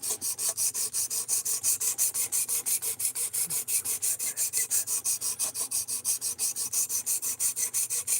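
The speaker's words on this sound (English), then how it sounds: "Trying to work on learning how to sharpen a Tonto on this thing." Rhythmic back-and-forth rasping of a Tonto knife blade being drawn across a Precision Adjust sharpener, steady repeated strokes about three per second, close and continuous with no talk.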